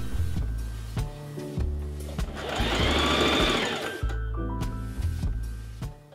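Domestic sewing machine patchworking the back bodice pieces of a cocktail dress, its rapid mechanical stitching rising and falling in short runs with clicks and pauses in between, close and clear with no talking.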